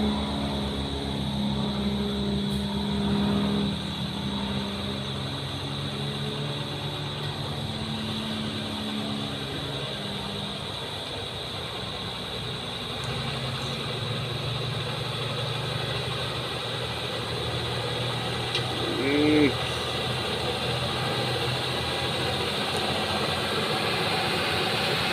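A Fuso 6x4 truck carrying an Isuzu Giga on its back pulls away with a steady low engine drone and rumble, with wind-like noise around it, continuous and moderately loud throughout.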